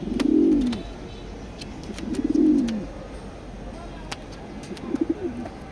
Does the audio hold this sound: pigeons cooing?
yes